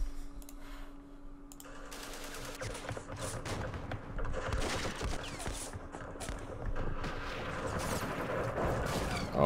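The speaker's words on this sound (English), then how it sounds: "Let's do some firing." Sustained gunfire and rattling volleys in the Vietnam War strategy game Campaign Series Vietnam, dense overlapping shots and bursts building up after a quieter opening and continuing steadily with no talk.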